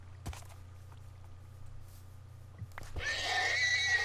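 A horse in a video game neighs loudly near the end, a rising whinny that follows a few soft thuds and a low steady game hum.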